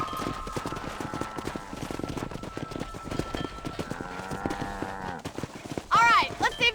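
Horse hooves clip-clop in a rhythmic patter in Red Dead Redemption, mixed with game sounds and tonal animal calls, with a sharp high cry near the end.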